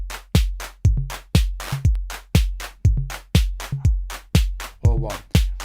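A looping iPad drum sequencer pattern of punchy kicks and claps, with one clap stuttering into a quick triple ratchet burst of repeated hits.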